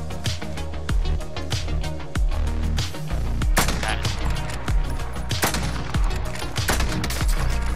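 Rapid bursts of gunfire in a video game shooter, loud and continuous, with sharp shots layered over a dense background of game sound and music.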